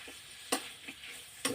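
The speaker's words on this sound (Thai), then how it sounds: "เอาหมูลงก่อนแล้วครับท่านผู้ชม" Pork being stir-fried in a pan for a gourd curry, soft sizzling underneath with a few sharp spatula scrapes and clacks against the pan, spaced out over a couple of seconds.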